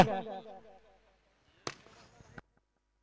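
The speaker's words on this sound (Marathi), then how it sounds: "आजूबाजूला एवढे फटाके वाजतायत" Firecrackers bursting around a village cricket tournament match. A voice fades out first, then two sharp, fairly loud bangs go off about a second apart.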